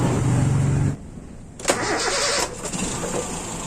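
Toyota Kijang engine with an Aisan carburetor being started, a steady idle that drops off, then the starter cranks and the engine catches and settles back into a close, even running sound.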